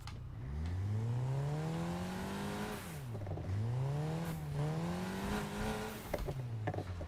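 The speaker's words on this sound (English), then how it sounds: "this car is not very fast, but it has a nice blow-off sound" A car engine in the video game NFS Heat revs up and drops repeatedly, the pitch sweeping between shifts, ending with sharp puffs of turbo blow-off.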